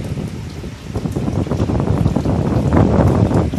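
A 12 volt DC solar room air cooler blowing air, its fan producing a steady, fairly loud broadband rush of wind noise close by that swells slightly toward the end, with no voices.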